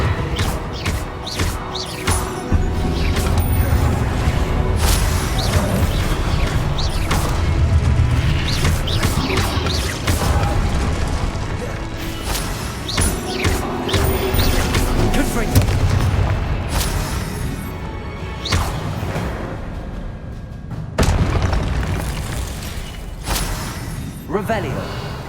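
Confringo spell blasts in Hogwarts Legacy give repeated booming explosions and sharp thuds in uneven bursts over a rumbling game soundscape, with talk throughout.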